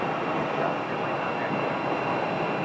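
American Airlines flight 478, an airliner taxiing at Phoenix airport, gives off a steady broadband engine roar with a high whine above it, holding even and continuous throughout.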